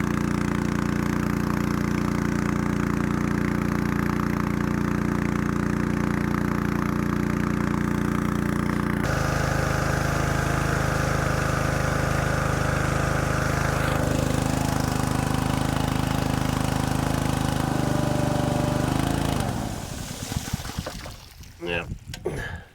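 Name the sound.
Honda GX200 engine running a water pump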